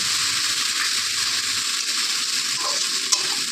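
Ground peanut paste sizzles and fries steadily in a frying pan, a continuous close hiss with occasional soft stirring scrapes, and no one speaking.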